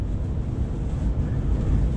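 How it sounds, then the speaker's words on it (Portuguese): Strong wind roars steadily against the microphone near the Queen Elizabeth II Bridge in the UK, a heavy low rumble with constant gusting and no voices. "Porque tá ventando demais"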